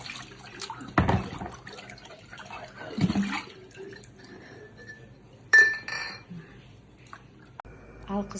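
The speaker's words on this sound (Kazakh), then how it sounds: "Енді таза суға шайып, осындай бір майлыққа төңкеріп қоямыз." Glass jars are rinsed in clean water and set upside down on a towel while making cherry jam, with scattered glassy clinks and knocks over faint running water, and a voice talking quietly.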